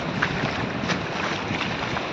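Sea wind and waves at Bordi beach at high tide in the morning, a steady broadband rush of wind buffeting close over the surf, loud and continuous with no talk.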